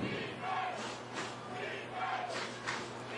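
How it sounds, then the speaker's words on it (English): Stadium crowd at a Hurricanes versus Cowboys college football game roaring continuously in the closing seconds, a dense, loud wash of cheering and yelling that swells and ebbs without pause. "So the crowd really getting into it here, trying to urge the Hurricanes to this win"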